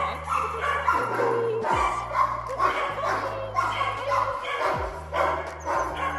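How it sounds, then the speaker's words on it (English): Retired racing greyhounds bark repeatedly at a shelter in a steady chorus of overlapping yaps, over a constant low mechanical hum. "I have arrived to the Greyhound shelter"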